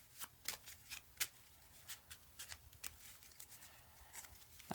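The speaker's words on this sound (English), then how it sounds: "I'll hit this with a quick shuffle." A deck of playing cards gets a quick shuffle at close range, a run of soft, crisp riffles and flicks in uneven bursts against a very quiet background.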